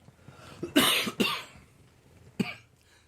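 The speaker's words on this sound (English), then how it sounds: "Pardon the coughing." Several harsh coughs close up, a quick pair followed by a single cough after a short pause.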